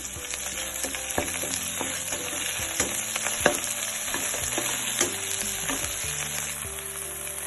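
Mint leaves dropped into a pan of frying onions for a Gongura egg masala curry, steady close sizzling with scattered stirring clicks and scrapes, no voices.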